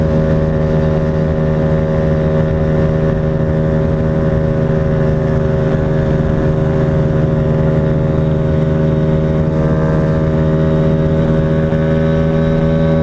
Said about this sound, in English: Can you hear how high it's revving up?